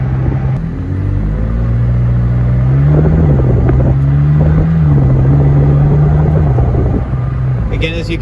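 Engine of a 2020 McLaren 620R cruising through town in automatic mode, a loud, steady low drone with gentle rises in pitch, heard from inside the car.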